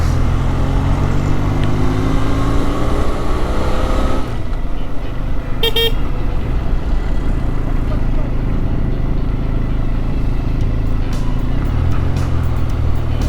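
A Benelli 502C motorcycle rides along a mountain road, its engine droning loud and steady with strong wind rush throughout, and a brief horn toot partway through.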